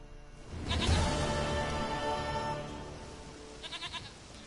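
A goat bleats in The Witcher 3, one long, fairly close wavering cry followed by a shorter, quavering bleat, with no one talking.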